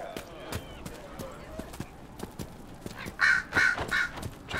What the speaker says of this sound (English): Crows nearby.